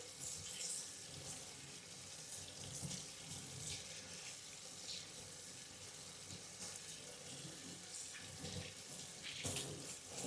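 A tap runs steadily into a sink during handwashing, a continuous close splashing hiss of water that holds an even level throughout with no voices.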